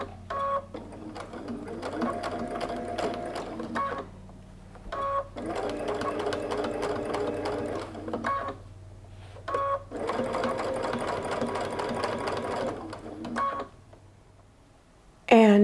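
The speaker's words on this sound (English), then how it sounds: "the edge of the zipper foot on the raw edge and stitch slowly, especially when going around corners" A sewing machine stitches piping with a zipper foot while sewing a toaster cover, running in three steady whirring bursts separated by short pauses, with a low background hum underneath.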